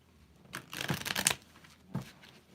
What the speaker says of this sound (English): Let me do a quick little shuffle.